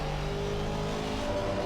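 The front-engined Aston Martin Vantage GT4 race car in the racing game Assetto Corsa Competizione holds a steady, droning engine note with a slight rise toward the end, constant and close, with no talk.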